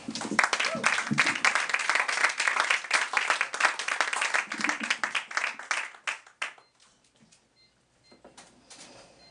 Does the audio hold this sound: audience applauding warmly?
yes